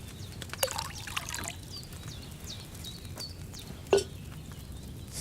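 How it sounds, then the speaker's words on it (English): Wine trickles briefly into a cauldron in the medieval game Kingdom Come Deliverance 2, a soft thin pour set against a quiet ambient bed with faint birdsong and a couple of light clicks. "Pour the wine."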